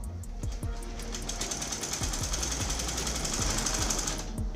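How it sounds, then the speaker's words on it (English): A sewing machine stitches the shoulder seam of a senator top with a fast, rattling needle rhythm that runs steadily and fairly loud throughout, with a few heavier thumps near the start. "I'm going to sew along this shoulder."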